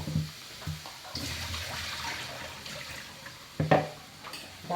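Vegetables for pinakbet are rinsed under a running kitchen tap, with splashing water, intermittent gushes and a few clinks and knocks from handling, no talk.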